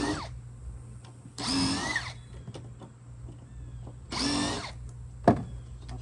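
A power drill unscrewing the top of above-ground pool steps, two separate bursts of whirring about a second long each, with a sharp click after the second, over a low background hum.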